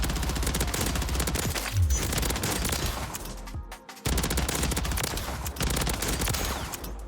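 Close-range weapon loadout fired in Warzone, a near, loud, continuous burst of automatic gunfire with rapid overlapping shots, one brief gap partway through before firing resumes.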